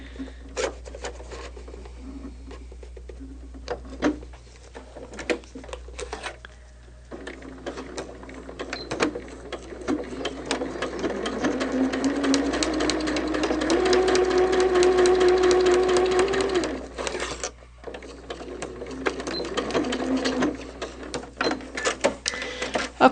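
A sewing machine stitches a fish quilt block: a rising whirring run of rapid stitching that swells mid-clip, then fades, surrounded by softer handling clicks and rustles.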